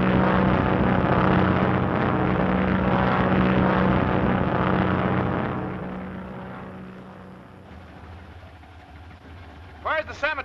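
A propeller airplane engine drones loudly and steadily, then fades into the distance, with voices talking over it and a brief burst of sound near the end, from a 1939 comedy crime drama.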